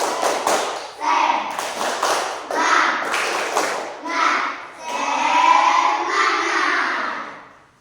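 A classroom group does a rhythmic cheer clap, tepuk semangat: patterned bursts of hand claps and taps in quick sequences, with chanting voices blended in and a longer vocal stretch near the end.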